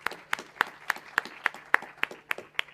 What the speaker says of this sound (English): Applause for everyone.